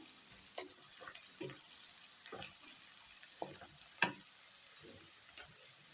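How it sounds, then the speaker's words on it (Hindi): Onion frying with green chillies added, a soft steady sizzle broken by a few light stirring scrapes and clicks of a utensil in the pan, fairly quiet and close, no voices. "देखिए मेरा प्याज भून चुका है। और इसमें मैं हरी मिर्च दे देती हूँ।"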